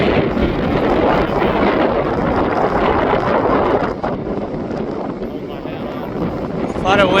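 Strong wind buffets the microphone outdoors at Cline Falls, a loud continuous roar that dips briefly midway and then surges again near the end.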